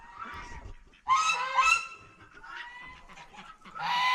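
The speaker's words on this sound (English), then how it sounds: "Ducks are all up here." Farmyard ducks outside on a freezing 14-degree day give loud nasal honks and quacks in several bursts, near and clear with short pauses between calls.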